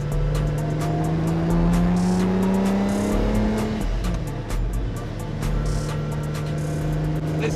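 A Lamborghini Miura engine running at low revs while driving, a loud, close, steady mechanical drone with a deep rumble, pitch dipping slightly midway before settling back to a constant hum, with no voices.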